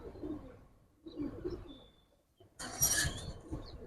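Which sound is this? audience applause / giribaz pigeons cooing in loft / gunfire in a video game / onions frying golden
giribaz pigeons cooing in loft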